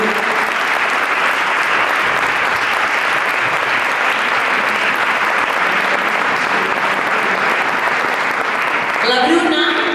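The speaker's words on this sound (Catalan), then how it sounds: "Un aplaudiment per la Bruna i un aplaudiment pel Bru" Sustained applause fills a hall at a short-film screening, greeting the film's two young actors. The clapping is loud and steady throughout, with a few raised voices near the end.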